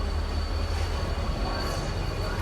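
A train rolls into Bhavnagar railway station, giving a steady, loud rumble of wheels and carriages with a deep low drone throughout and no clear break.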